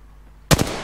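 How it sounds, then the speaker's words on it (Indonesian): A short burst of gunfire from the video game Apex Legends Season 6: two or three sharp, loud shots in quick succession after a moment of near silence. "Ada tembakan tuh, ada tembakan."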